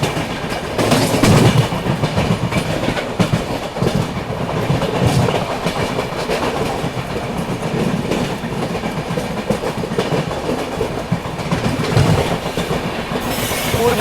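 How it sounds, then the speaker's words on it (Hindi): The Dibrugarh Rajdhani Express rolls along at speed as it crosses the Purbiya Express, with a loud, continuous rumble and clickety-clack of wheels on rails, plus some squealing, heard up close from inside the train. "यहाँ पे पूर्बिया एक्सप्रेस से क्रॉसिंग होगी अपनी"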